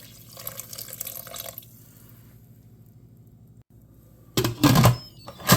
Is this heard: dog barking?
no